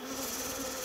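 Honey bees around a beehive, a steady close buzzing hum with a clear pitched drone, brief and continuous with no talk.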